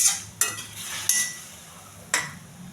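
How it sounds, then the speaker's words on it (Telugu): Boiled ivy gourd being mixed with turmeric and garam masala in a pan, three distinct scraping stirs of a utensil against metal over a faint, low sizzle, no talking. "ఈ మసాలా మొత్తం కలవాలి."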